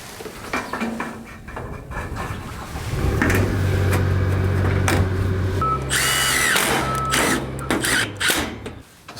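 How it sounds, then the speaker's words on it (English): A power drill drives a screw into steel trim while garage soffit and fascia are installed, whirring in short bursts, then a sustained, louder run with changing pitch as it reverses and drives back in. "See how I drive my screw in, then I reverse it back out, and then I slowly put it in."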